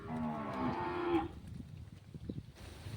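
A Gir cow lets out one long, loud moo nearby at a village cowshed, then quieter outdoor knocks and rustling follow.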